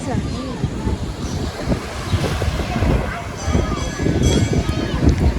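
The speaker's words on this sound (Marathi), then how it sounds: "हा बघा कुणकुशाचा समुद्र" Sea waves and wind at Kunkeshwar beach, a steady rushing wash of surf with blustery gusts buffeting the microphone, close and fairly loud throughout, with a voice talking over it.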